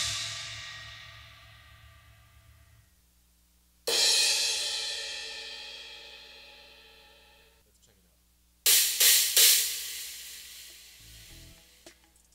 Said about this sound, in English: The first and most obvious option would be to combine the two 16-inch crashes